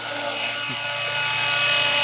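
A Schweizer 300c scale GPS RC helicopter drone spools up, its rotor and motor giving a loud, steady whine that holds and rises slightly across the clip.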